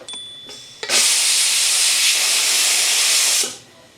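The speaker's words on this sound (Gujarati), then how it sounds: "કુકરની સીટી એકવાર ચેક કરવી પડે" A pressure cooker whistle bursts out with a loud, steady rush of hissing steam that lasts about two and a half seconds and then cuts off, close by, after a few faint clicks.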